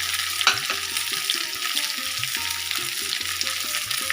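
Potatoes, capsicum, pumpkin, beans and cabbage fry steadily in a pan for a mixed-vegetable navaratna dish, with a continuous sizzle and repeated stirring scrapes.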